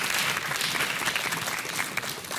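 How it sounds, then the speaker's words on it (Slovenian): A studio audience on a Slovenian quiz show applauds both teams, a short burst of dense clapping that holds steady at close range throughout. "En aplavz za obe ekipi"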